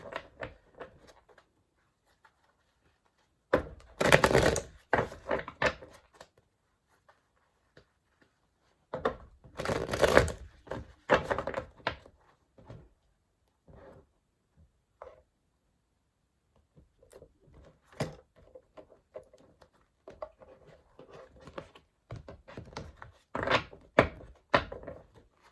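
A deck of tarot cards is shuffled in several separate bursts of riffling and tapping. The bursts are close and moderately loud, with quiet gaps between them.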